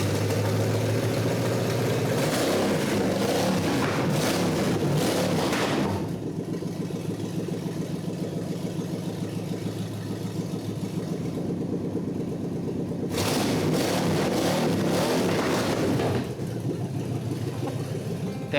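A 1948 Packard engine running steadily in a garage, a loud continuous mid-range drone with brief bursts of brighter revving near the start and again later, no voices.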